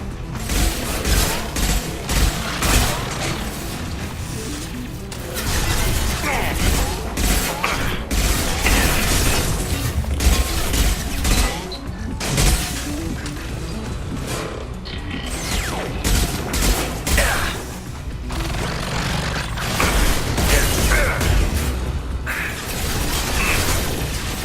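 Pistol fire in Mass Effect 2 rattles off amid a dense, loud battle mix of booms, mechanical clanks and shattering, continuous throughout with no clear gaps.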